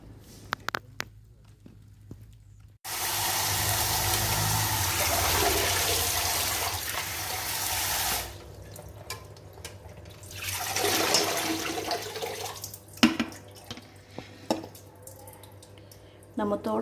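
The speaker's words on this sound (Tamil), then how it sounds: "நம்ம தோட்டத்தில் இருந்த பொன்னாங்கண்ணி கீரையை பறிச்சுட்டு நல்லா சுத்தமாக கழுவியாச்சு." Running water pours steadily over freshly picked ponnanganni greens from a home garden as they are washed, a broad rushing stream in two main bursts with small splashes and handling noises between them.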